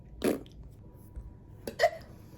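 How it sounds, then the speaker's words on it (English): Two short, sharp hiccups from a person at a desk, one near the start and another about a second and a half later, with quiet room tone between. "I have the hiccups."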